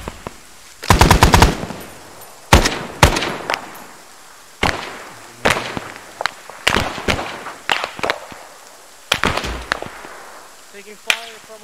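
Gunfire in the Arma 3 video game, a rapid automatic burst followed by scattered sharp single shots and short volleys, loud and close with echoing tails.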